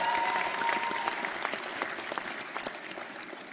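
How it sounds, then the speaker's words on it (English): An audience at a new venture competition claps steadily, a dense wash of applause that fades slightly over a few seconds, with no voices over it. "So give them a round of applause."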